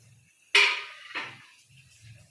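Metal lid lifted off a steamer pot of dhokla: one sharp clang with a ringing tail, then a second softer metallic clink, close by and otherwise quiet.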